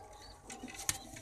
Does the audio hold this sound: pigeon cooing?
yes